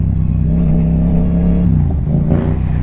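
Loud, close Yamaha motorcycle engine revving with the exhaust baffle removed, a steady throaty rumble that rises in pitch near the end, with no talking.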